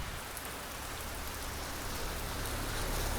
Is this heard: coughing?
no